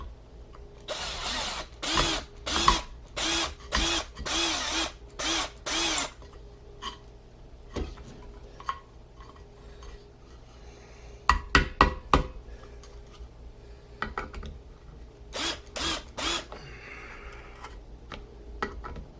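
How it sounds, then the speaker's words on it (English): A power drill fitted with a screwdriver head drives screws in repeated bursts, its motor whining up and cutting off in several close, loud pulses, then shorter clustered bursts later with quiet gaps between. "And I'm gonna put my screwdriver head on here. Screw into this one."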